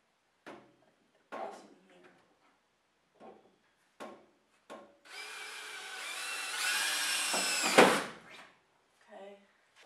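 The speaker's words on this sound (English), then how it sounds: "here's marked where I'm going to drill a hole in the bottom of this thing" A power drill whirs steadily for about three seconds, drilling a hole in the bottom of a part for a Nissan 240SX drift car, rising in pitch near the end, after several short knocks and clatters.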